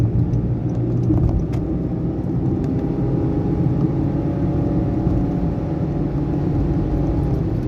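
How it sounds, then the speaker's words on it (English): A 2019 Honda Jazz accelerates briefly from inside the cabin, a steady low engine drone and road rumble holding at a constant loudness without clear rises in pitch. "so let's have a short acceleration"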